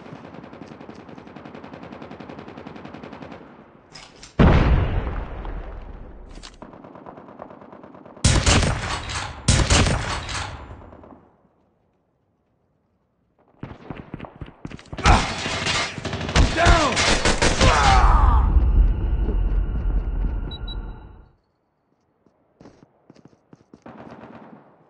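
Bursts of automatic gunfire and single loud shots in Call of Duty Mobile, close and punchy, separated by short silences and ending in a long sustained burst over game background noise.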